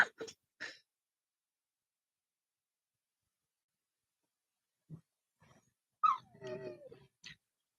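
A dog whimpers indoors at night in a few short, soft whines and yips separated by a long stretch of near silence.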